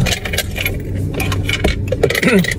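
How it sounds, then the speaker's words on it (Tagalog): Coins jingle and clink close up as they are handed over for a print-shop errand in the Philippines, busy metallic rattling over a steady background rumble of passing traffic. "bibigyan ko ng barya to si Kian sa print."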